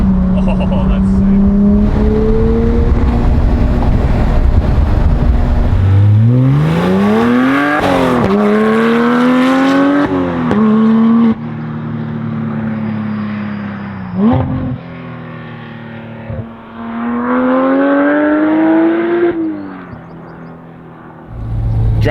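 A Porsche sports car drives a winding desert road, its engine revving loudly and climbing in pitch through repeated gear changes, with tire noise and brief lifts off the throttle between pulls.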